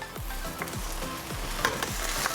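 Shrimp fried rice tossed in a hot pan, a close sizzle punctuated by four rhythmic swishing tosses and a few light clinks.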